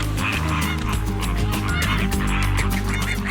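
A dense flock of flamingos honks loudly and continuously during a group courtship dance on a beach, overlapping nasal goose-like calls filling the whole moment with no pauses.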